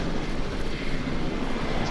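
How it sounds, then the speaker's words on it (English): A helicopter in the zombie video game No More Room in Hell, a continuous broadband engine and rotor drone held at a steady, moderate level with no speech over it. "Guys, I found the helicopter."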